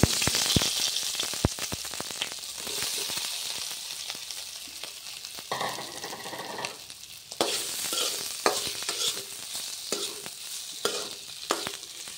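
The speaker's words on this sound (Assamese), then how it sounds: "এতিয়া মই লগতে আলুখিনি ফ্ৰাই কৰি ল'ম" Potatoes fry in hot oil in a pan for a dhaba-style egg curry, a loud close sizzle and crackle under repeated scraping and clattering stirs, swelling louder toward the end.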